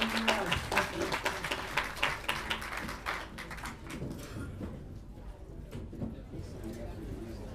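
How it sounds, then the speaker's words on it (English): Audience applause at a Seattle Hempfest 2013 panel, a moderate crowd clapping for several seconds before thinning out into scattered claps and murmuring voices. "Let's give everybody a big round of applause."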